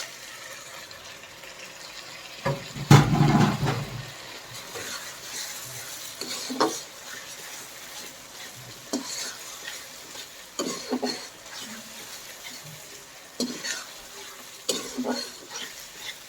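Dried red chillies, bay leaves, cinnamon sticks and cardamom pods dropped into hot oil for a broiler chicken curry give a brief sizzling burst, then quieter frying with scattered clinks of a spoon against the pan.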